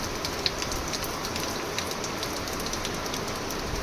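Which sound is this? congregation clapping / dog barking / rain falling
rain falling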